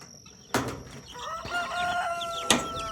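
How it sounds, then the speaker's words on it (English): Chickens cluck and crow nearby, with a couple of sharp bursts like wing flaps amid steady background noise. "And we have our chicks"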